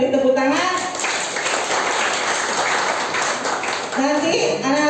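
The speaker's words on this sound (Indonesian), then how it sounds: "Kita beri tepuk tangan." A church congregation gives a burst of broadband applause for children, loud and dense for a few seconds. A person talks before and after the clapping.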